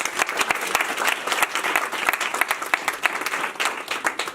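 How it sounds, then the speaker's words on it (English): A room full of people applauding for a contestant at a youth pitch competition, dense continuous clapping at close range that stays strong throughout. "Could we give Kai a round of applause?"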